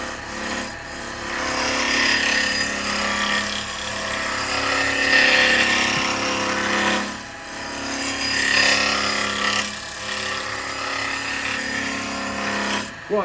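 Wood lathe spinning a spalted wood vase blank at just over 2,000 RPM while a carbide tool cuts, a steady loud whirring hum with rising and falling scraping swells across the turn, no voices.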